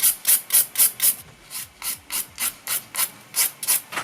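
A nail file rasps across a fingernail, stroking up and over toward the centre of the nail during nail-art prep: about fourteen short, even scratching strokes in a steady rhythm, close up, with a brief pause partway through.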